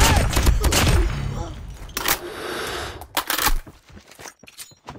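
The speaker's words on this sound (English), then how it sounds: "Watch out! Flashbang!" Flashbang grenade going off in a first-person shooter match, a burst of sharp bangs and cracks early on, then scattered muffled thuds and further pops as the chaos continues.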